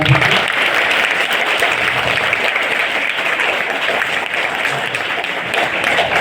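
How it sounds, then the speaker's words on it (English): A school audience of students applauds during a fire safety awareness program, a steady, continuous roar of many hands clapping that holds at an even level for several seconds with no talking over it. "give a round of applause"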